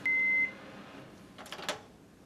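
A single long electronic beep from a microwave rings out at the start, followed by faint rustling and a couple of soft clicks.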